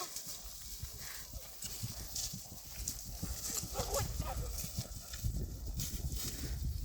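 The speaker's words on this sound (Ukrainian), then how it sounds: "Коні щось не в настрої." Horse hooves thud and clop irregularly on soft ground in a field during jump training, at moderate distance, with faint background noise and murmuring.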